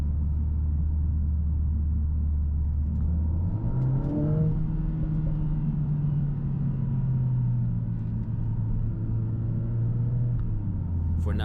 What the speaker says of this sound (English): you can immediately hear the pops and bangs from the exhaust.